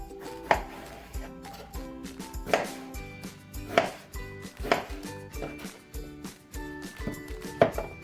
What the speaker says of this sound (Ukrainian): Почищені баклажани я нарізаю кубиками.